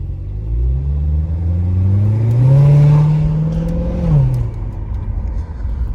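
A Corvette engine rumbling deep and close from inside the car, revving up in a rising swell and easing off again over a few seconds, with no talk.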